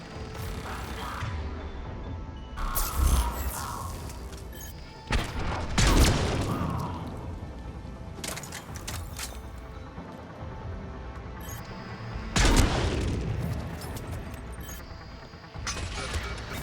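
Video game gunfire heard as repeated bursts of shots and crashing impacts, with several loud volleys spaced out over the clip amid mechanical game noise.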